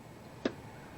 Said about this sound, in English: I'll be putting my socket wrench on that